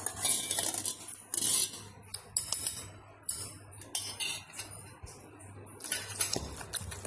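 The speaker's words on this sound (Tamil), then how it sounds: "இப்போ வந்து தக்காளி போட்டு இடிச்சிட்டாங்களா" Cooked tomatoes and green chillies being pounded for tomato chutney, with repeated uneven thuds and clattering scrapes of a pestle against a vessel, close and fairly quiet, no talking.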